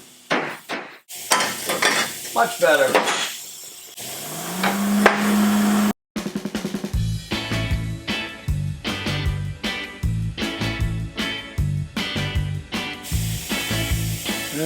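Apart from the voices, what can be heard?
hammer shaping a custom race car exhaust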